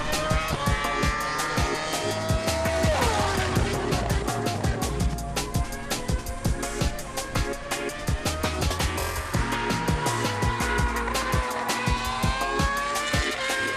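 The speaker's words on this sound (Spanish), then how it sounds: "Pisamos a fondo el acelerador de nuevo, en busca de la curva Kamsa" Formula 1 car engines in a racing video game whine and climb through gears in a loud, busy mix, with sharp clicks and rising and falling tones layered throughout.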